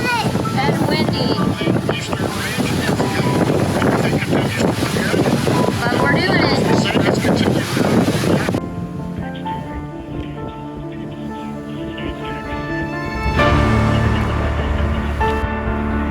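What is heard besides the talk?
wind blowing on a boat at sea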